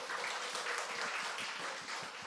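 Church congregation at a summer Bible school joint worship service clapping together, a steady dense wash of applause held at moderate level throughout with no voices over it.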